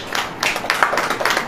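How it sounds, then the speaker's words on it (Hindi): Scattered hand claps from a congregation during a Hindi-language sermon, a few uneven bursts of moderate loudness that stay brief and patchy rather than building into full applause. "ताली बजेगी।"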